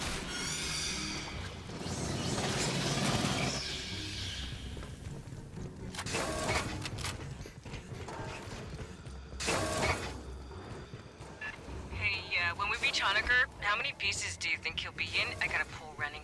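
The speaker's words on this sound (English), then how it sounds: "Marines, head to the core lift. Big freight elevator. Goes all the way up the main tower." A big freight elevator in the Aliens: Fireteam Elite sci-fi shooter grinds and whirs upward through a main tower, with sustained mechanical rumbling, creaks and ratcheting, and a radio voice speaking over it.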